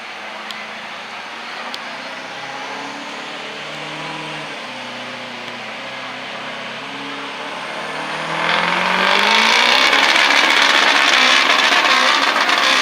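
Diesel pulling truck called the Dark Knight, in the Triple Crown diesel division at a county fair truck pull, idling with a low rumble before revving up loudly into a sustained roar near the end.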